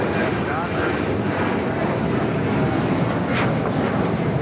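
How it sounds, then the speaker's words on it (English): Jet airliner taking off from runway 25 right at LAX, a steady, loud broadband engine roar sustained throughout, with faint radio chatter beneath. "runway 25 right, clear to take off."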